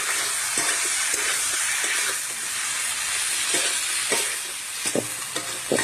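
Cumin paste and spices being stirred in a hot cooking pan, a steady sizzling hiss with repeated scraping spoon strokes in an uneven rhythm, close up with no talking.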